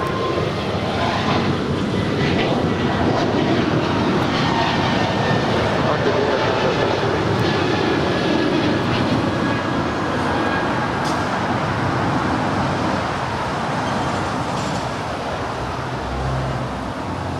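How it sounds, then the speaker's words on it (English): An Air Canada Boeing 747 bound for Montreal departs LAX on the south side, a loud continuous jet roar that holds steady and rumbles heavily from start to finish. "Our next departure here on the south side is Air Canada, flight 778 heading to Montreal. 25 right short of Charlie, 747."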